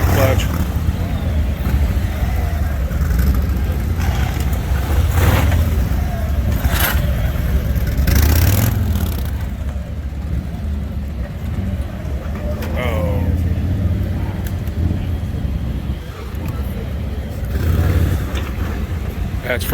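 A vehicle engine revs under throttle, a loud rumbling drone that rises and falls over about twenty seconds, with people talking over it throughout.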